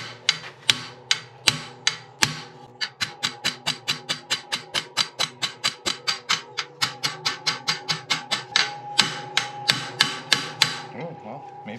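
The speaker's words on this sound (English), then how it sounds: "We're gonna tap it in with a brass hammer" A brass hammer taps a new steering stem into the springer front end of a Yamaha XS650 chopper, with dozens of sharp metallic strikes in a quick, mostly steady rhythm, up close and loud, briefly pausing near the start.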